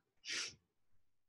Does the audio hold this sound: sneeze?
yes